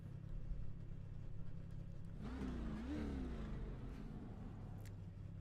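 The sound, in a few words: K&N Series NASCAR car engine in iRacing video game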